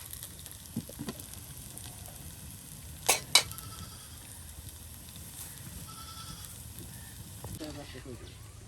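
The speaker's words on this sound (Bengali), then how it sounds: "এই যে আমাদের আজকের মসুর ডালের বড়া কিন্তু ভাজা ভাজা করে নেওয়া হলো।" Red lentil fritters fry in hot oil, a soft, steady sizzle under nearby talking, with a couple of sharp clatters and a goat-like bleat in the background.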